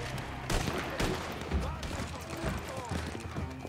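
Gunfire in the online Western game Red Dead Online, a rapid string of shots and bursts mixed with game ambience, running under continuous talk.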